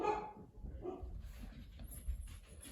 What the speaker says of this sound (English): my dog's spazzing out